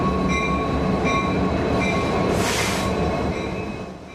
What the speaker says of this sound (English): This freight train is being pulled through Eugene, Oregon by locomotives.